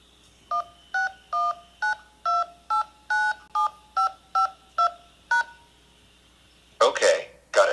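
Telephone keypad DTMF tones keying in a phone number: about a dozen evenly spaced short beeps, clear and close, followed by a brief burst of speech at the end.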